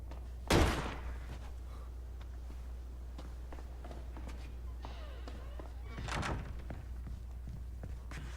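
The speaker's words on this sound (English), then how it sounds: "And it's going to open the front door." A front door swings open in the Resident Evil 4 Remake video game with a loud thud near the start, then a quiet stretch and a second heavier thump, like the door settling or closing.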